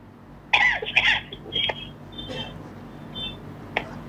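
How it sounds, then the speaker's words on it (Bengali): A patient undergoing a medical exam for lower back pain coughs on request, a couple of short close coughs followed by quieter throat sounds and faint bits of room noise. "একটু কাশি দেন।"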